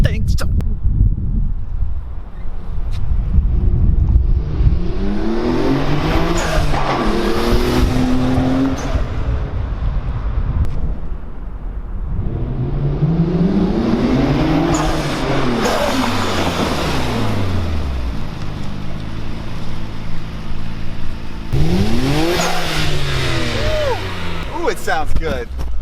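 An R32 Skyline GTR with an HKS SSQV blow-off valve revs up and falls back in three loud, near, rising-and-dropping pulls, and a whooshing release follows each pull. Voices talk over the engine.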